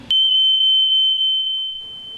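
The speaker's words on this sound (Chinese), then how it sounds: "还有烤箱上的定时器一叫" An electronic timer on an oven sounds one long, loud, steady high-pitched beep lasting nearly two seconds, alone and close, before cutting off into quiet room noise.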